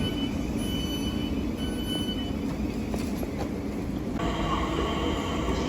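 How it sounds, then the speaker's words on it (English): A Southeastern train from Hayes pulls into London Charing Cross with a continuous low rumble and rolling wheel noise, a high whine and tonal hums, heard close and steady throughout without talk. "Incoming now is the 1600 South Eastern service from Hayes to London Charing Cross."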